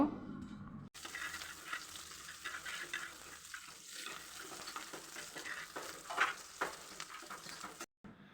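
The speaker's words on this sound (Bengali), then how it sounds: "পেঁয়াজ কুচিটা দিয়ে তারপরে ভালোভাবে নাড়াচাড়া করে আমি একটু বেরেস্তার মতো করে ভেজে নিব" Chopped onions sizzle steadily in a hot pan for a Bengali fish bhuna, with repeated scraping stirs and light clatter across a continuous close, bright frying hiss that cuts off briefly at the start and end.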